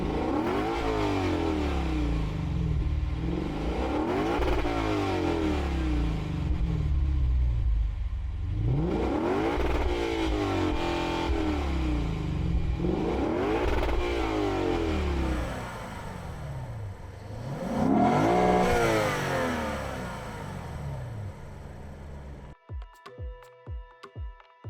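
A 2021 Lexus RC F Fuji Motor Track Edition engine starts and revs hard in repeated rising and falling sweeps, loud and close, then settles before a final burst and a few clattering knocks at the end.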